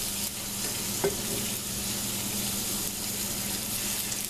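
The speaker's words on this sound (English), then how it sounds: "So I'm going to pan sear these so they can be a little bit crispy before I put them in." Cajun-seasoned pieces seared in a pan with oil, giving a steady, even sizzle throughout with one brief utensil tap early on and a faint background hum.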